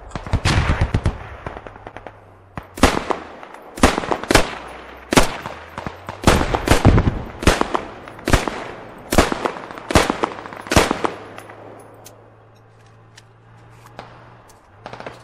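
Suppressing machine-gun fire in the tactical shooter Squad: a dozen or so loud, close bursts in a steady rhythm with short pauses, followed by fainter distant shots and a low rumble toward the end.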